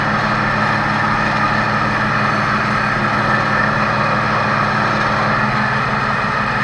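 An old tractor engine idles steadily and loudly nearby, a constant low rumble with a rhythmic mechanical chatter and no other sounds.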